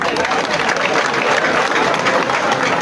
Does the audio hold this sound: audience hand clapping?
yes